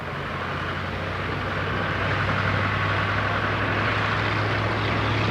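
A warbird propeller aeroplane passes overhead during an air show display, a steady droning engine roar that swells slightly as it approaches, with no voices.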